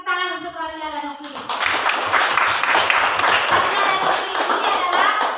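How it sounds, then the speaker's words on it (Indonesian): Clapping for two pupils at an Indonesian school lesson session. A sung or spoken tone comes first, then a dense burst of clapping from a group of children fills the rest and keeps a steady level. "Kita berikan tepuk tangan untuk Radila dan Novli"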